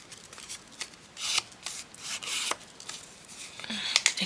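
Leftover bits of paper are folded in half and then folded again, close by. The sound is soft, crinkly rubbing and rustling in uneven bursts.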